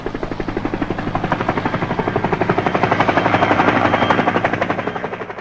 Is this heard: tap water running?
no